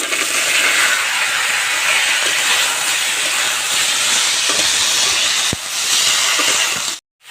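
Bay leaf, cumin and arum stalks sizzle in hot oil, a loud, steady, close hiss that runs almost unbroken for several seconds, then cuts off abruptly near the end.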